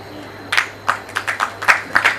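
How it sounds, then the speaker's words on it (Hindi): Scattered hand claps from an audience at a Hindi poetry recital (kavi sammelan) in Shahjahanpur, about eight sharp, separate claps spread unevenly over a couple of seconds, with no voices. "तालियां तो आके बजा, सही बात"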